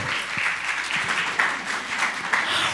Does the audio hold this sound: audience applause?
yes